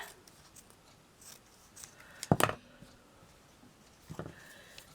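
A quick snip of scissors cutting through tassel thread, close and crisp, a short burst near the middle with a softer snip or rustle later, over a quiet room.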